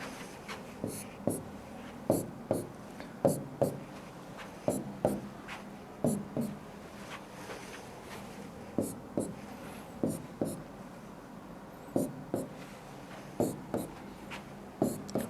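A pen or marker strikes through numbers on paper in quick repeated strokes, each a short scratchy swipe in a loose rhythm, close and fairly quiet with no talk.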